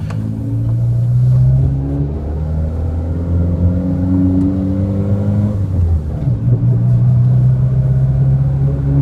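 A Renault Clio with freshly replaced steering tie rod and ball joint drives along with a loud, steady engine drone and road rumble, the pitch dipping briefly as the car shifts speed.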